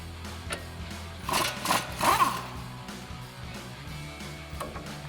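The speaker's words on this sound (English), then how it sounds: "remove the nut for our ball joint to our upper control arm using our 19 mil socket and swivel adapter on our impact" An impact wrench with a 19 mm socket and swivel adapter spins off the upper control arm ball joint nut on a Toyota Tundra front suspension. It gives a few short, buzzing rattling bursts close by, with no speech.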